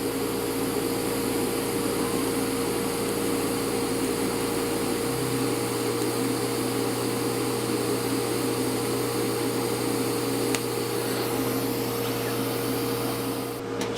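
An R-Tech TIG163DC DC TIG welder runs at 40 amps on stainless steel, giving a steady, even electrical hum and hiss that holds constant throughout, with a slight shift in tone partway through and no talking.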